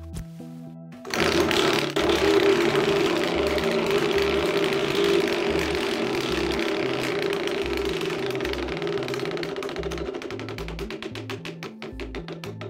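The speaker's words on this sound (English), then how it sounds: "Everyone knows once I spin this wheel," Game-show style prize wheel spun by hand, a rapid loud ratcheting clatter of clicks that gradually slows and spaces out as the wheel winds down, heard alone without talk.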